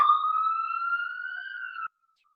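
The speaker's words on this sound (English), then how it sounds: "I live in New York City, and so you will hear ambulances come by on occasion" Ambulance siren in New York City, a steady rising wail heard clearly and fairly close for about two seconds, then cutting off abruptly into silence.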